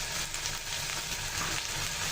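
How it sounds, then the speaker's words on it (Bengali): Garlic, cumin and ginger paste frying in a pan with onion and green chilli for a Bengali fish bhuna, giving a steady close hiss and sizzle with faint stirring throughout. "সব কাঁচা মশলাটা ভালো করে ভেজে নিব"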